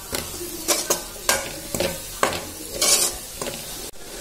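Beans, potato and other vegetables for veg noodles stir-fried in a pan, with repeated quick scraping strokes of a spatula over a steady close sizzle, no one speaking.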